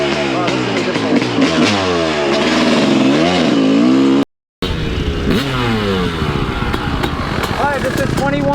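A 2003 Kawasaki KX250 two-stroke dirt bike engine revs up and down in loud, rising and falling sweeps close by, with a brief gap partway through before the revving continues.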